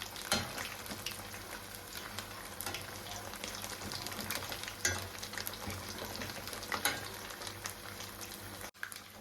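Paneer 65 pieces deep-fry in hot oil in a home kitchen, giving a continuous crackling sizzle, and scattered clinks and stirring scrapes mark the pieces being turned over, with no speech.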